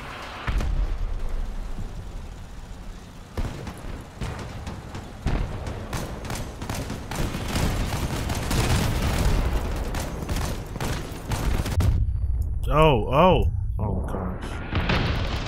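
Cannons and guns fire in the vehicle-combat game Crossout, with tanks such as the Tiger, KV-2 and T95. Dense, loud booms and rapid shots come in overlapping volleys while someone comments and exclaims.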